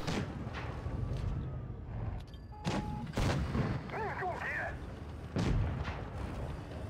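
Repeated booming tank shell blasts from a World of Tanks Blitz battle, several loud broadband thumps spread across the stretch over a constant rumble of game noise, with a faint tonal sweep in the middle.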